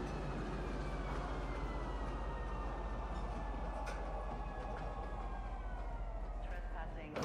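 A train idles at a spaceport station in a video game, a steady low rumble with whining tonal hums and occasional metallic clanks, fairly quiet and continuous.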